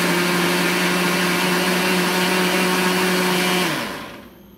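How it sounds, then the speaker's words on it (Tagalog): A kitchen blender whirs at high speed, pureeing fresh tomatoes with chicken broth for soup, a loud steady motor drone with a whooshing churn that holds constant and then winds down as it is switched off. "Start na po natin ang ating blender."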